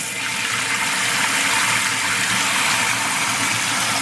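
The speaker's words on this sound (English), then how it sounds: "turn the water on, see what happens" Water rushes steadily into a toilet tank through the fill valve, a close, loud, continuous hiss and gurgle.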